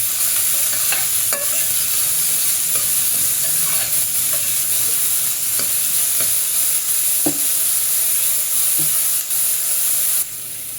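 Onions fry in hot oil for an Andhra cabbage tomato curry, a continuous close sizzle and hiss punctuated by scattered clinks and scrapes of a spoon stirring against the pan, fairly loud and without speech.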